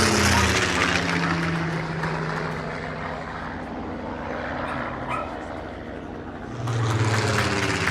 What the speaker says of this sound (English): it was great to see the Hurricane fly over the festival